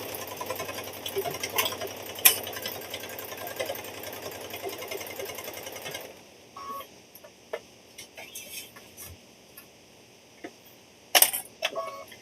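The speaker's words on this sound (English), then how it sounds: "You're just sewing it to the back there." Sewing machine stitching binding onto the back of a Christmas quilt, a rapid mechanical chatter for several seconds that stops, followed by scattered clicks and small handling noises.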